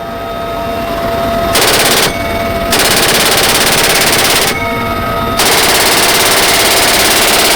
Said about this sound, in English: this was an exciting moment for me to be on board as the Marines fired off rounds